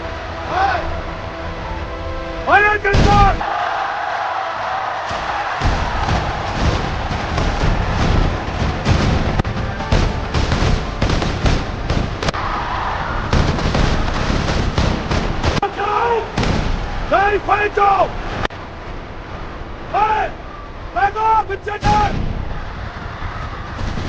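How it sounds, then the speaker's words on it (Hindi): Soldiers' rifle fire in a dramatised reenactment of the 1919 Jallianwala Bagh massacre: dense, rapid, loud shots rattle on for over twenty seconds, with crowd cries and screams rising between the volleys. "सैनिकों ने तुरंत फायर शुरू किया। गोलियां सीधे भीड़ पर चली।"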